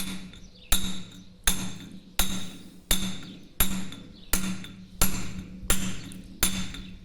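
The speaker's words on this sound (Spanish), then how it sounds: "vamos a continuar con el cincel" A hammer strikes a steel chisel carving stone, about nine sharp metallic blows at a steady, unhurried rhythm, each ringing briefly before the next, close and alone.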